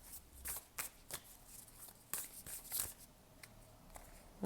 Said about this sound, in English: I'm going to put those back and shuffle again